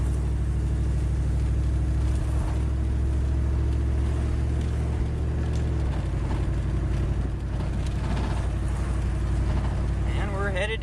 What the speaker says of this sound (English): we're headed down the road on wood gas. No gasoline necessary